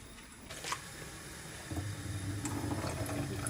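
Makeup brushes coated with foundation, concealer and powder are rinsed in hot water, giving continuous close splashing and swishing with a few sharper sloshes and drips, steady and moderately loud.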